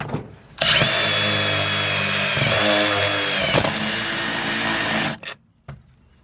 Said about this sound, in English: the next step is to use like a step bit like this and just go to town